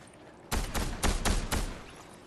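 Gunfire in the video game Fortnite: a rapid burst of about four or five loud, sharp shots in quick succession, close and prominent, with no talking.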